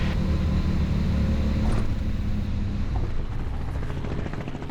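A Robinson R44 helicopter arrives at the helipad of Tatenhill airfield, its rotor and engine roar loud, close and steady throughout with no voices.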